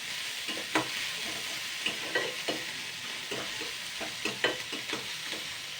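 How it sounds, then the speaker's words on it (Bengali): Garlic paste and green chili frying in oil with onion in a pan while being stirred, a continuous sizzle broken by repeated spatula scrapes and taps. "রসুন বাটাটা দিয়ে দিচ্ছি জাস্ট আমি একটু দুই মিনিট নাড়াচাড়া করে নেব"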